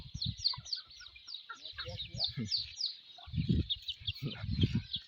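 Chickens kept by a young girl helping her grandfather raise them cluck and chatter close by in a farmyard. Voices talk intermittently over the birds.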